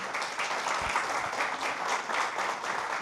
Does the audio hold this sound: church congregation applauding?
yes